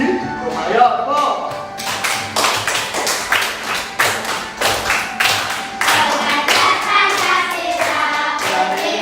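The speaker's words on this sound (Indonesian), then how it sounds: "Ayo, tepuk." Children in an Indonesian primary classroom clap in rhythmic bursts of sharp, close claps, repeated in patterns and mixed with chanting voices.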